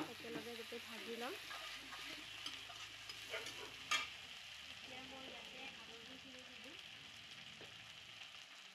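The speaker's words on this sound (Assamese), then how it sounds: "এতিয়া মই তেজপাত আৰু আদা নহৰু এই জালুকখিনি একেলগে গোটেই ভাজি ল'ম।" Bay leaf, ginger and garlic frying together in oil with lightly browned onions, a steady close crackling sizzle with occasional stirring clatter and a sharp tap near the middle, with faint speech in the background.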